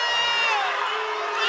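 Spectators at a girls' high school basketball game between North Kitsap and Olympic yell and cheer loudly in a continuous, unbroken roar of voices calling for a foul.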